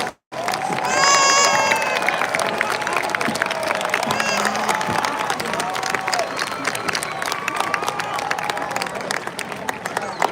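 Graduation ceremony crowd applauding the honors graduates as they rise, a broad steady wash of clapping with some cheers, filling the hall for the whole stretch.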